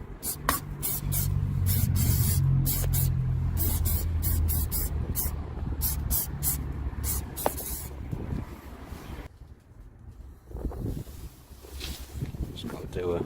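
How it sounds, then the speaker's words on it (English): Orglim silicone spray hisses in rapid short bursts inside the interior of a 2007 Vauxhall Zafira seven-seater, over a low rumble of wind and engine noise, then trails off into quieter rustling. "Orglim silicone spray."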